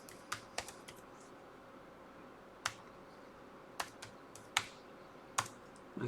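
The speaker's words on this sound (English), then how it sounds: "let's open one, and let's type the IP address" Keystrokes on a computer keyboard as an IP address is typed for an SSH connection, a sparse run of about ten separate clicks, some in quick pairs, close and fairly quiet over faint room hiss.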